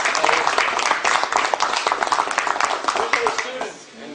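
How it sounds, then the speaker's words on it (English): Audience applause follows a presentation on the Magna Carta: dense, steady clapping from a crowd that holds loud for about three and a half seconds, then begins to thin and fade. "I hope you give a good round of applause for him"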